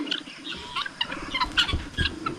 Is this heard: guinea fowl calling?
yes